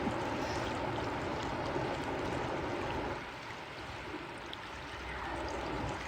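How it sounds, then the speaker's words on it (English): Water on the River Great Ouse near Kings Lynn rushes steadily as the tide turns, a continuous low roar that eases slightly midway, with no voices. "I just heard this roaring coming from down the river"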